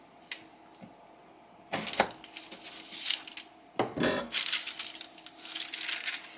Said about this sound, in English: I'm going to go ahead and cut a slice and show you the inside.